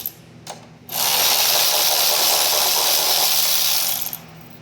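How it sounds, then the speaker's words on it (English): A hand ratchet spins steadily on a bolt in a 2022 Yamaha R7 frame while the frame slider is removed, a close, continuous buzzing clicks run of about three seconds after a brief knock, with no talking. "Just wanted to get my nice"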